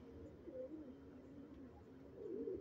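Black-tipped pigeons coo softly and continuously in low, rolling calls, faint and close, with no voices present.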